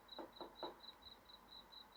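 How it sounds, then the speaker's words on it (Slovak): Knocking on a door in a horror video game: three quick, soft knocks come early, over a steady pulsing high electronic tone that repeats through the quiet scene. "Kto klope?"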